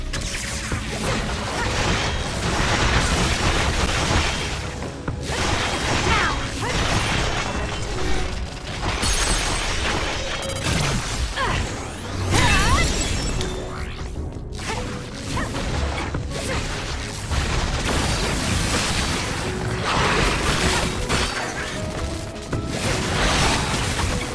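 Explosive enemy attacks in the action video game Scarlet Nexus, a dense, continuous barrage of crashes, booms and whooshing swipes with shattering impacts, loud and close throughout with no talking.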